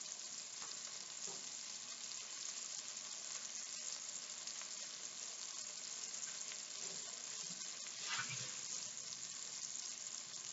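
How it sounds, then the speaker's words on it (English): Bowl being rinsed under running water in a home kitchen, a steady close hiss of flowing water with a brief splash and clatter near the end. "So what I'm going to do is rinse out this bowl."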